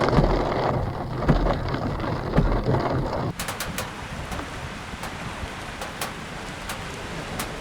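Hail and rain pounding down during a storm on a roadside run across Canada, a dense loud clatter that abruptly drops at mid-clip to a lighter steady patter with scattered sharp drop ticks.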